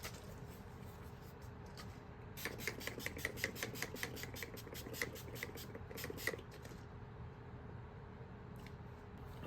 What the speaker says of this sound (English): Ooh, child, y'all, I just sprayed way too much on my face.